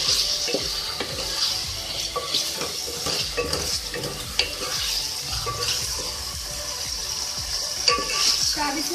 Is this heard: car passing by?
no